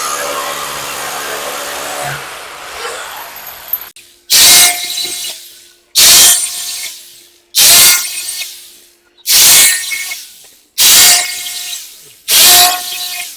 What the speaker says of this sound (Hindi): देखो यहाँ पे ऐसे यहाँ पे ड्रिल कर लो।